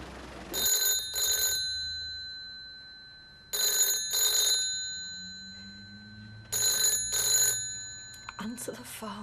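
A telephone rings in three separate bursts of paired trills, each burst fading into a gap, with low murmurs in the room between rings and a brief clatter at the end.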